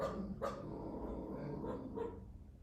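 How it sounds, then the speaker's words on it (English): Faint muffled barks from Winnie the dog somewhere in the house, three or four short yaps spaced across a couple of seconds, distant and quiet as someone comes to the front door. "there will probably be a little bit more barking in a second."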